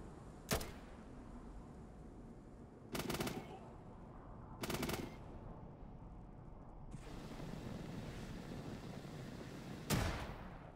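Gunfire in the post-apocalyptic RPG Atom RPG Trudograd during a bridge battle: four sharp, loud shots at irregular intervals, each cracking over a steady low rumble of ambient battle noise.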